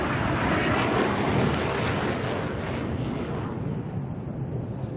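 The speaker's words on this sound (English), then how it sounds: "no problems with getting up into the vertical for the Mirage" A Dassault Mirage 2000-9 jet flies a display at the Dubai Air Show, a loud continuous roar of jet engine noise that holds steady, then thins slightly as the aircraft pulls away.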